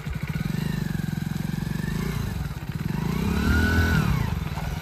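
A motorcycle engine idles and runs steadily close by with a rhythmic putter that swells slightly near the end as it revs, during a beginner riding lesson.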